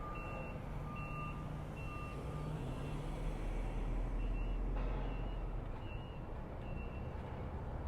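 Trucks and traffic on busy Massachusetts Avenue beside the U.S. Capitol, with repeated reversing beeps and a low engine rumble swelling midway as work crews load removed fencing, steady and moderately near.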